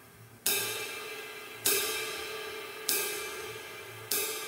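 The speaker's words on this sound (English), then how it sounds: "You hear that the cymbal opens up." Four cymbal crashes struck with a drumstick and spaced about a second apart, each a bright wash that opens up and rings on while slowly decaying, heard alone with no talking.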